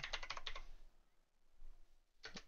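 Quick bursts of typing on a computer keyboard, a cluster of rapid key clicks, a pause of near silence, then a few more taps close by.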